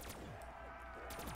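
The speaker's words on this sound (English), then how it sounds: "Okay, I'm shooting them." Gunfire from a video game as zombies are shot, a couple of quick sharp bursts at the start and end with a humming game background between them.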